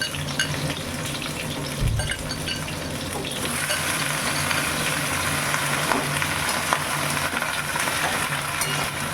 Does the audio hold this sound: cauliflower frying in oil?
yes